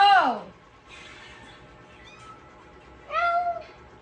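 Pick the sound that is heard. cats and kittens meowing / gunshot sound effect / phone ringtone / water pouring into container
cats and kittens meowing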